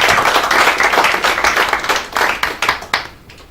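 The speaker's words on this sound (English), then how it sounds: "Can we give them a round of applause?" A small gathering at an ICAN presidential courtesy visit to the Federation's Head of Service gives a round of applause, loud close clapping that thins into a few separate claps and dies away at the end.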